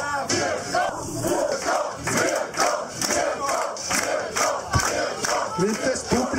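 A wrestling crowd at a fight night shouts and roars in loud rhythmic bursts, a dense chant-like swell of many voices rising and falling throughout.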